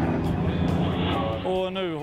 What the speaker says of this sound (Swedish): De här två flygplanen som kommer nu.